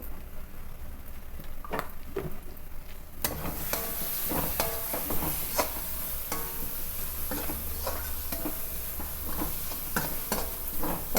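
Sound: frying crab curry masala with turmeric in a pan

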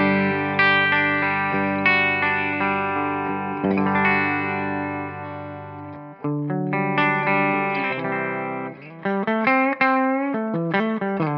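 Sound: Gibson Les Paul Standard 60s clean tone, bridge pickup

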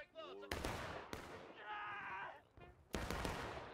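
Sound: musket volley fire in War of Rights video game

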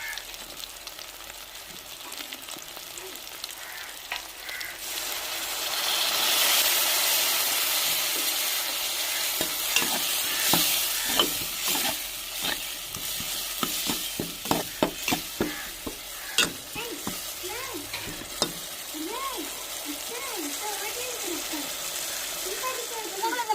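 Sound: stirring fried onion, tomato, chili with masala spices in pan

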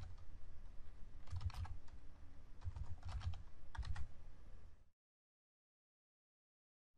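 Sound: typing on a computer keyboard, writing SQL code

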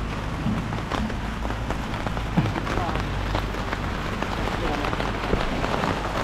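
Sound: rain falling on a steel deck rooftop

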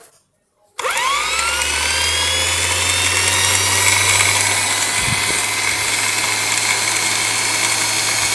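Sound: 60V 1500W geared electric motor running

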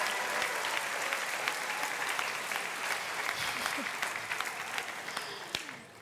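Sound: applause and cheering at a university graduation ceremony

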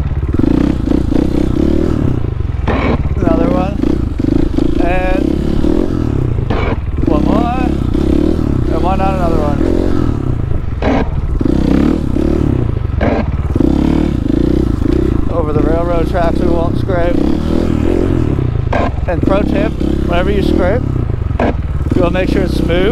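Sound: motorcycle scraping the ground during a wheelie

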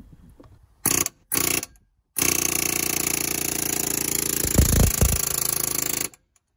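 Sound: Snap-on air hammer powered by Harbor Freight 3-gallon compressor

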